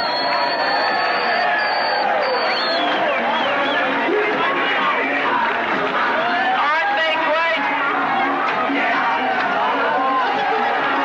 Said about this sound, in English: I want to hear a big round of applause